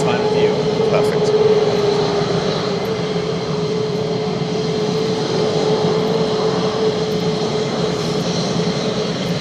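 A military fighter jet sits running on the flight line at RAF Lakenheath, its engine producing a steady, loud roar with a sustained whine that holds constant throughout, with no break.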